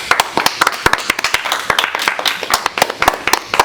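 Scattered, uneven handclaps from a small group ring out close and fairly loud in irregular bursts, with no steady roar behind them.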